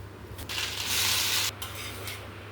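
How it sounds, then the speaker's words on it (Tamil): Bread roasting in butter in a hot pan for a paneer bread omelette gives a steady close sizzle and crackle, swelling louder mid-way then easing back, with no talking. "ப்ரெட்டை வந்து ரோஸ்ட் பண்ணிக்கலாங்க. பட்டர் ஊற்றிக்கலாங்க."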